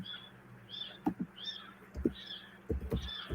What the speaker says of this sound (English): Here's someone's bird.